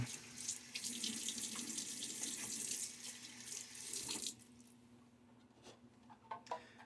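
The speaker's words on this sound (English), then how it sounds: "A little water on my face now." A bathroom tap runs steadily during a wet shave, water splashing into the sink for several seconds before it stops, leaving faint drips and small handling sounds.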